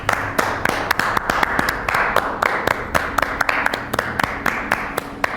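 A live audience claps in a sustained round of applause inside the King Opera House, with dense overlapping hand claps at a steady, lively rate and no voices.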